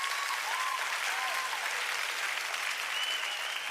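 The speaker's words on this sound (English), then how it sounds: "please clap for all of them" Audience applause for candidates at a town hall meeting during the NBA Lagos 2026 Law Week: continuous, even clapping from a crowd, steady and moderately loud without pause.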